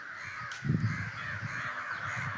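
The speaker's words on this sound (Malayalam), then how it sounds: "കുറേ കാക്കയെല്ലാം കൂടെ ഇത്രയും പൊക്കത്തായിരുന്നു" Several crows caw in a short burst, moderately close, over an onion field, with a steady hiss of rain or wind in the background.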